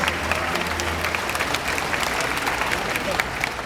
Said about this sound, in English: How about a round of applause for our two volunteers?